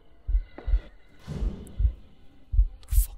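A slow, deep heartbeat pulses in the dark horror game A Mazed Nightmare, its paired thumps repeating steadily, with a soft breathy sigh partway through.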